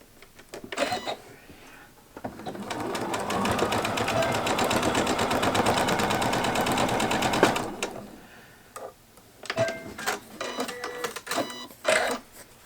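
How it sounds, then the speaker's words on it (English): A sewing machine stitches the seams of a fabric gift bag in a fast, steady run of about five seconds, followed by a few shorter stop-start bursts and light handling clicks. "put it through your sewing machine at another 1/4 of an inch"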